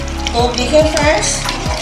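Coarsely ground spinach fries in a hot pan, a steady close sizzle broken by several scraping stirs of a spoon, with no talk.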